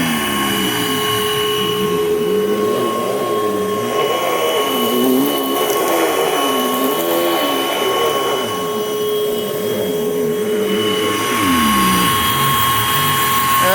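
A 2004 Panasonic upright vacuum cleaner runs loud and close with a steady motor whine, its pitch wavering slightly as it is pushed around, then rising briefly near the end.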